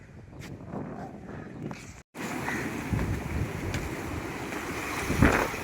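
Sea waves and wind at Uvari beach make a steady broadband roar with gusty wind noise on the microphone, cut by a brief dropout, then a louder wash of surf with an occasional thump.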